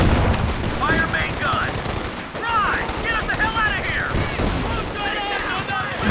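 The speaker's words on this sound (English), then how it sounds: "So now I just need to target these machine guns so my infantry doesn't just get crushed." Rapid machine gun fire rattles continuously in Company of Heroes 2, dense bursts of gunfire layered with battle noise and chirpy whizzing effects, loud and sustained across the whole stretch.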